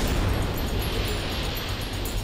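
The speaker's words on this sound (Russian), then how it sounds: "Сильный взрыв." Strong explosion aboard the battleship Petropavlovsk near Port Arthur, heard as a dense, loud, rumbling blast that roars continuously without a break.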